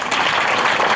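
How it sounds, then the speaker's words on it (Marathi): An audience applauds at a school ceremony unveiling a memorial bust, a brief, dense burst of many hands clapping that fills the room evenly. "खरोखर चाटे सरांसाठी एकदा टाळ्या होऊन"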